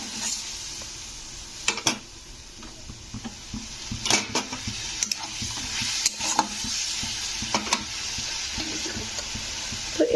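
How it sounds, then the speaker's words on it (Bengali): Spice paste with chili powder and a splash of water fries in a pan with a steady sizzle. A spoon scrapes and stirs in sharp intermittent clatters, and there is no talking. "তো জল দিয়ে মশলাটাকে আমি কষে নেব।"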